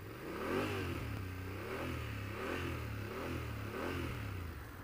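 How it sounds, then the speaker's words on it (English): A motorcycle engine revs in a run of repeated throttle twists, about four rising and falling pulses in a steady rhythm, fairly faint and heard alone without talk. "I'm twisting the throttle."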